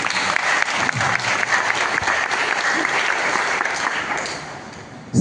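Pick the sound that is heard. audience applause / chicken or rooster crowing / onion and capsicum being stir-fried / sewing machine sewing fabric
audience applause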